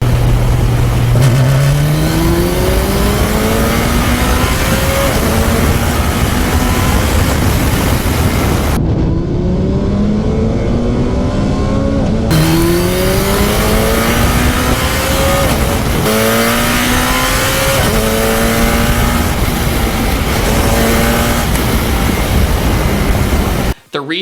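Several Hayabusa-powered Radical SR1 race cars launch together at a track start, engines screaming close and loud through rising sweeps and repeated upshifts, with overlapping revs from neighbouring cars.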